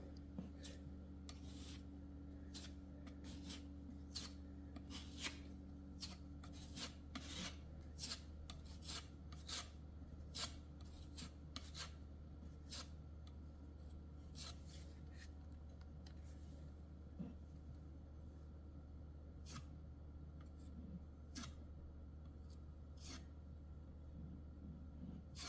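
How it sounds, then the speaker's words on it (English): Putty knife spreading pink color-change spackle into a small hole in drywall during a home repair, heard as a steady run of short scraping rasps and rubs, close and fairly quiet, with no talking. "get our putty knife, get some of this out, and fill the hole"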